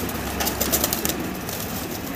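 Pigeons coo and flap in a loft or market coop, with a busy, mid-level mix of calls and wing flutters and no talking.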